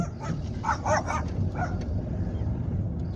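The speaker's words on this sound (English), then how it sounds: "That's John Delaney's dog" A neighbor's dog barks a few times in the distance, brief muffled yaps heard from inside a car on an afternoon drive in County Kildare, over steady road and engine rumble, with no talking.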